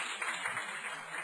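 A congregation at a Sunday church service gives a steady round of encouraging applause, a dense, even patter of many hands heard from a moderate distance.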